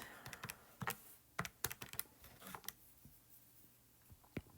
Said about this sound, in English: So you want to type that into your calculator.